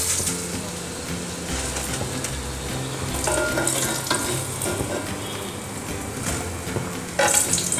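Potato and sweet potato wedges frying in oil, a steady close crackling sizzle with bubbling that holds throughout and grows a little louder near the end.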